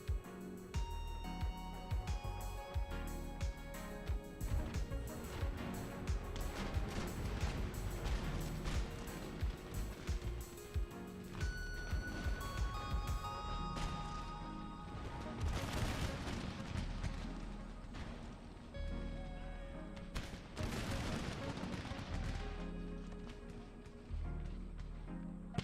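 Continuous musket volleys and artillery booms from troops in a battle in the video game Empire: Total War, dense overlapping cracks rolling throughout, loud with no break.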